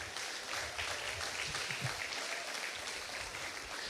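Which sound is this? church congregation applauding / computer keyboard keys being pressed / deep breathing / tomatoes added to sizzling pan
church congregation applauding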